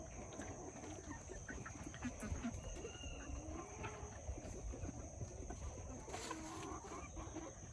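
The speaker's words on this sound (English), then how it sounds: "can you hear them roosters in the background?" Distant roosters crowing now and then near a chicken coop, over a steady outdoor background of birds and farm ambience, fairly faint.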